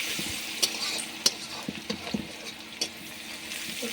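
Chopped onions frying with cumin in a pan, a steady close sizzle broken by sharp scraping clicks of a spoon stirring at irregular intervals.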